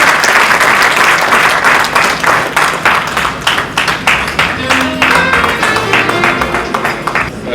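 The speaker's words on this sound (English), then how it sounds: "a round of applause for our MEC, please" A round of applause from the audience at a construction excellence event in Limpopo, as an MEC standing in for the premier comes up to speak; steady, dense clapping fills the room throughout.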